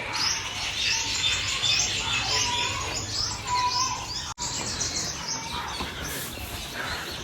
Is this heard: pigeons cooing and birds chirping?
yes